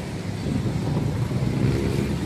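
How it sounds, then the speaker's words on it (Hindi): Heavy vehicles rolling over the Hub River Road bridge in Karachi, a steady, dense roar of traffic with engine rumble and tire noise that stays constant throughout, with no voices. "यहाँ पे बड़ी हेवी गाड़ियाँ यहाँ पे चल रही हैं।"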